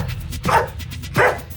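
A police K-9 dog at a training facility barks twice, loud and close, each bark a short sharp burst roughly half a second apart, over low background noise.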